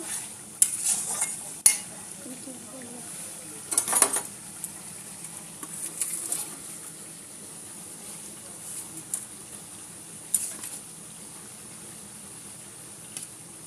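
Fried potatoes tipped into a pot of curry with spices, several sharp metallic clinks and scrapes of a utensil against the pot over a low background, with a voice speaking briefly.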